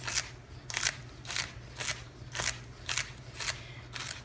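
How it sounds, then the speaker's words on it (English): Knife rapidly dicing celery into tiny pieces on a cutting board while making kale, white bean and sausage soup, giving eight crisp, evenly spaced chops close up over a low steady hum. "This is how I prefer to do my celery, like little tiny dice."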